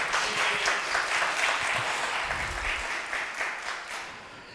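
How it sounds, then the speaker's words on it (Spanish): An audience at a Spanish-language presentation of the video game Moons of Darsalon bursts into applause for its developer. The dense clapping is loud at first and tapers slightly toward the end, with no talk over it. "por favor, dediquémosle un aplauso a Dr."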